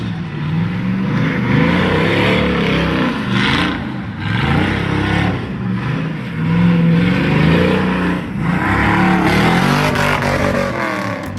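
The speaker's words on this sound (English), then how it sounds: "Here is a C4 Corvette, sliding in under a trailer, doing a little gymkhana, and sliding out under a trailer." A C4 Corvette slides and revs through a gymkhana run, in and out under a trailer. Its loud, close engine rises and falls in repeated revving surges with tire and road noise, and no voices.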